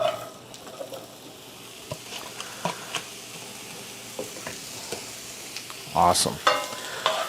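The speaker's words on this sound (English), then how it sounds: "I got my green peppers and my onion that I'm going to throw in here" Green peppers and onion sizzle quietly in a frying pan for a loaded tater tot dish, with soft scattered stirring taps and a louder clatter of scraping near the end; one brief spoken word.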